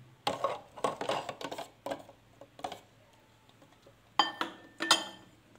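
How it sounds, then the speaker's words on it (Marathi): Four forgotten boiled eggs lifted out and set into a glass bowl, giving a run of close, irregular clinks and knocks with quiet pauses between them and no talking. "ते मी एका काचेच्या भांड्यात काढून घेत आहे"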